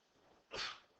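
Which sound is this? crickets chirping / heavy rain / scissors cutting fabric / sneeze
sneeze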